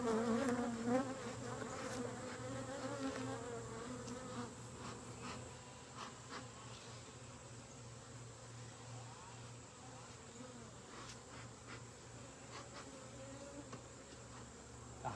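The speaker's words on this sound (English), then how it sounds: "these bees seem to be a little more ornery. There's a lot more of them buzzing around my head" Honey bees swarm and buzz around a beehive and close to the head of someone checking it for honey, a steady dense drone with individual bees passing near, loud throughout.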